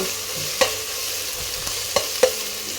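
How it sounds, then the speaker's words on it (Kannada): Ginger and garlic frying in a pan with mutton paste stirred in, a steady sizzle broken by a few sharp spoon scrapes and clinks, close by, with no voices. "ಶುಂಠಿ ಬೆಳ್ಳುಳ್ಳಿ ಚೆನ್ನಾಗಿ ಫ್ರೈ ಮಾಡ್ಕೊಂಡಿದ್ದೆ"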